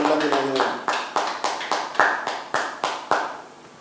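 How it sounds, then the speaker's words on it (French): A church congregation claps along during a prayer service, about a dozen sharp, evenly spaced claps in a steady rhythm, close and fairly loud, fading slightly at the end. "Acclamez fort chez vous."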